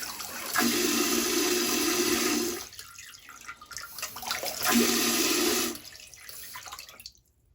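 Water sprays from a bidet toilet seat during a leak test, two sustained hissing bursts of a couple of seconds each, with quieter dripping and trickling between and after them, close and loud, no voices.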